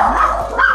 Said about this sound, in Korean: 우리 강아지들이 참 시끄러워.